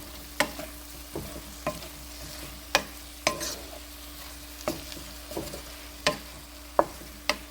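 Tofu frying in a pan with added carrots and tomatoes, a soft sizzle beneath repeated sharp utensil scrapes and clacks as it is stirred, close and moderately loud.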